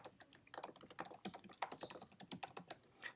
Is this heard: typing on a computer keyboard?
yes